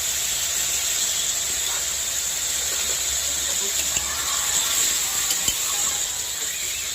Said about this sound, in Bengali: পেঁয়াজটা আমি হালকা করে ফ্রাই করে নেব